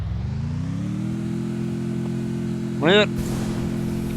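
A vehicle engine in a Free Fire-style battle royale game, a steady droning hum that rises in pitch early and holds, with a voice speaking briefly over it near the end.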